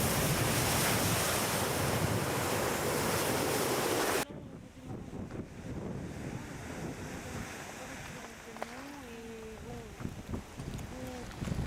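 Heavy surf crashes loudly for several seconds against lava at the active Kilauea volcano, then the roar drops to softer lapping water and wind, with faint voices in the background.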